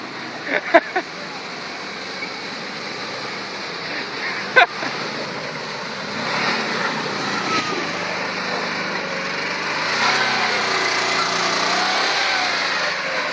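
A ZAZ Zaporozhets convertible's small engine revs with a high, buzzing drone that rises in pitch and loudness over several seconds, preceded by a few sharp knocks, with voices heard faintly.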